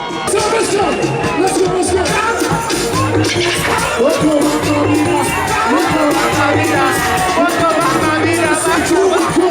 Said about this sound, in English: Lee and former BB Niger housemate Lekwa Rose elevated the mood with their moves that got the audience cheering.